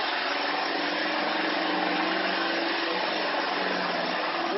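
A 12-volt electric motor drawing about 50 amps spins at speed, giving a steady, loud whirring hum that holds constant throughout without any talk.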